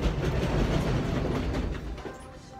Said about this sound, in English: Whoa, and the train's like, train is shaking like crazy.